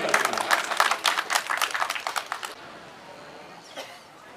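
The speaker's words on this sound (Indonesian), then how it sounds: "Tepuk tangan dulu sama Pak Mertun" Applause from an audience at a bridge inauguration ceremony, a couple of seconds of brisk, fairly close clapping that stops abruptly, followed by quiet room tone and a faint voice.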